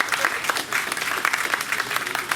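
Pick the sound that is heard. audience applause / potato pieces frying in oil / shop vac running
audience applause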